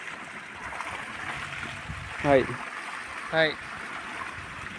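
Water flows steadily while young mango plants on a hillside are irrigated, a constant soft rushing wash with a voice briefly breaking in twice over it.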